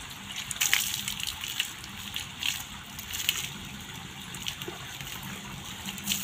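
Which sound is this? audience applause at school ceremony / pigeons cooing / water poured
water poured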